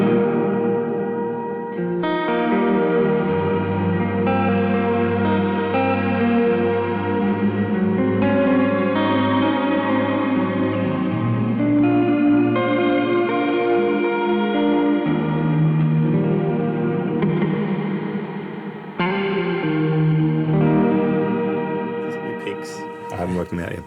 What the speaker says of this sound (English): So there's a shimmer reverb with a thick, lush chorus added.